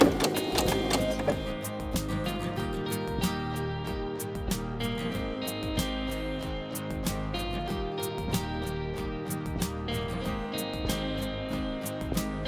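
Sewing machine running a zigzag stitch along the edge of a fabric face mask, a steady rapid mechanical stitching patter with a constant motor hum, close and continuous, no voices.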